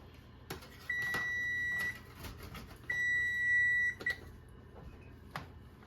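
A kitchen timer sounds two sustained electronic beeps, each about a second long, in a home kitchen while sausage gravy and biscuits are cooked, with faint clatter between them.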